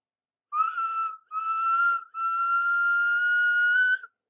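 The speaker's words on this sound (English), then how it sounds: "Whistled Toby." A steam tram engine's whistle sounds loud and clear in three blasts, two short and then one long sustained note, on its own with no other sound.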